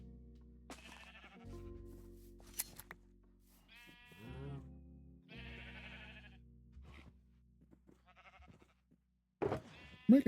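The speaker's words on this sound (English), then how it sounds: "Keep eating the grass, sheeps. I don't want your wool." Sheep in a Minecraft-like game bleat in several separate wavering calls while eating grass, fairly close and clear, with short quiet gaps between them and no talk.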